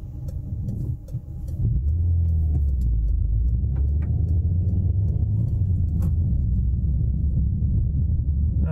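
Steady low engine rumble inside a moving 2005 Peugeot 307 CC with little sound proofing, rising after the first second or two into a constant droning hum with road noise.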